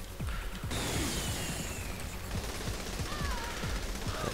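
Rapid gunfire while shooting in a video game, a dense run of sharp clattering shots packed closely together, loud and continuous with mechanical rattling over a noisy game background.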